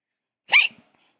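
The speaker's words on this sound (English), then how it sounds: "Excuse me, hiccups are the worst." One short, sharp hiccup from a Genshin Impact character, a single abrupt voiced catch in otherwise silent surroundings.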